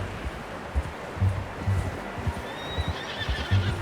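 A horse in the video game Red Dead Redemption 2 whinnies in a rising, drawn-out call over low rumbling ambience and faint rustling, fairly close and moderately loud.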